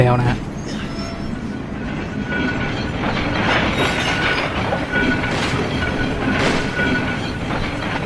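A tram rolls along rails in the video game SIREN: Blood Curse, a steady rumbling clatter of wheels with faint squeals running through the whole stretch while someone talks over it.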